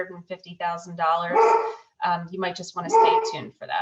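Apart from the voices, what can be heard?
dog barking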